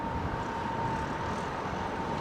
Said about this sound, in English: Big carbon aeroplane. It's insane. This is the 777.